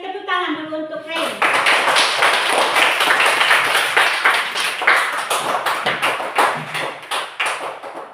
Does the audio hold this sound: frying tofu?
no